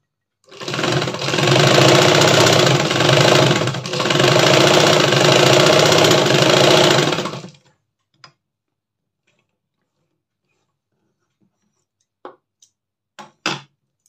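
Sewing machine stitching along the edge of a cloth, two loud, steady mechanical runs of rapid stitching separated by a brief pause, then silence with a few faint clicks and taps.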